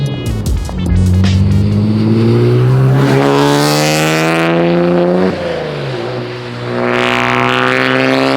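A Nissan 350Z fitted with a twin-turbo VR30 engine and a Tomei titanium exhaust revs up hard, holds a loud rising snarl, dips briefly, then climbs again, close and dominant with no talk.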